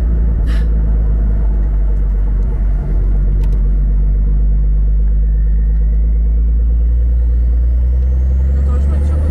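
Deep, loud and constant exhaust drone from a Porsche 992 Carrera 4 with stage 2 tuning and its exhaust valves open, idling or cruising steadily with a low rumble.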